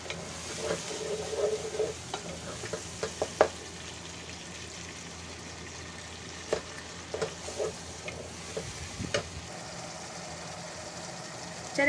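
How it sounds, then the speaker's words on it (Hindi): Onions frying in hot oil in a home kitchen pan give a soft, steady sizzle, with occasional scrapes and clicks of stirring, fairly quiet throughout and without talk. "ऑयल गर्म हो गया, अब इसमें हम प्याज शामिल करेंगे।"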